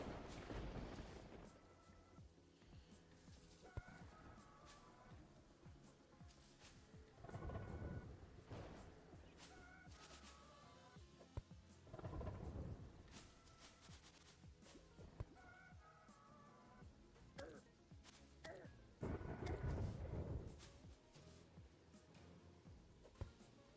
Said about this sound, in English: Looks like there's some kind of storm going on.